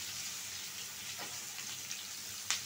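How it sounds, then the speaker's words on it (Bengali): Chopped onion and green chili fry in a pan with a quiet, even sizzling hiss and a couple of small crackling pops near the end. "এখন দিয়ে দিব পেঁয়াজ কুচি, আর হলো কাঁচামরিচ"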